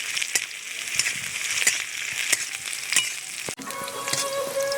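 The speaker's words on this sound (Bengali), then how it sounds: "পেঁয়াজ রসুন লঙ্কাটা বেশ ভালোভাবে ভেজে নিয়েছি" Onion, garlic and green chillies fry in hot oil with a steady, bright sizzle broken by regular spatula scrapes and stirs, close-up and continuous, and the tone changes briefly near the end, with no voices.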